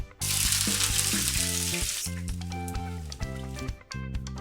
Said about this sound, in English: we're going to start sauteing the vegetables now